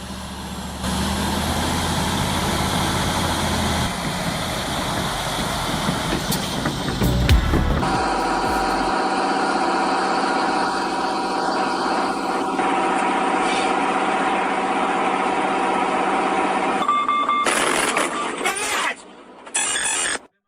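Ford 6.2-liter V8 truck engine running steadily and loud on an ice road while towing a rig, a continuous drone that shifts in tone midway and cuts off near the end.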